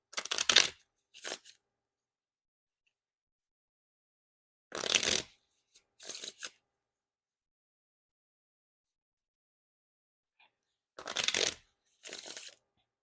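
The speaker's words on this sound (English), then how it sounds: "And now time for the Riffle Shuffle or Bridge Shuffle." Riffle shuffles of an Orbit Seventh Edition deck of playing cards, heard as short crisp bursts of cards riffling, roughly in pairs, each followed by a brief quieter bridge, with clear silence between rounds.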